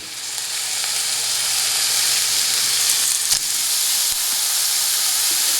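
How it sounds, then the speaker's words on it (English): Fish frying in oil in a pan for a Bengali fish curry, giving a steady, close, broadband sizzle that holds evenly throughout, with a faint clink of utensil near the end. "take the fish and put it in there for a quick fry"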